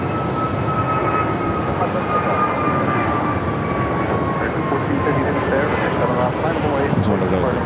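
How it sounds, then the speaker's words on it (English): An Italian-built aircraft takes off from runway 7 left at Phoenix airport, its engines a loud, steady broadband roar with a thin whining tone, and a voice speaks over it. "It's one of those Italian aircraft."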